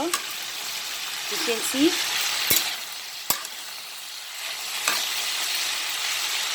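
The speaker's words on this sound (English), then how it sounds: "After 5 minutes of sauteing long beans and potatoes together" Long beans and potatoes sizzle steadily as they sauté in a pan, a continuous frying hiss with a few stirring scrapes and brief knocks, while a voice speaks briefly over it.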